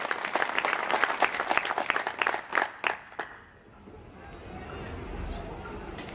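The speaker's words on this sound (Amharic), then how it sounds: "አጨብጭቡለት" Applause at a church fundraising event breaks out as a crowd claps together in dense, lively bursts, then thins to scattered claps and fades into low room murmur.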